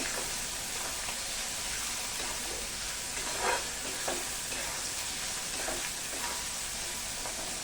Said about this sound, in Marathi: आता हा जो कांदा आहे हा मस्तपैकी सोनेरी गुलाबी ते सोनेरी रंगावरती परतून घेऊया